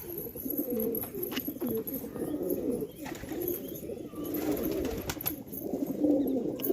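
Several male pigeons in breeding condition coo continuously, a soft, overlapping throaty murmur close by with no talking.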